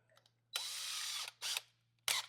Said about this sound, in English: 9/16 drill bit